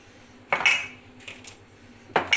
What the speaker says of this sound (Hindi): अरे अरे गिरा जा रहे हैं बर्तन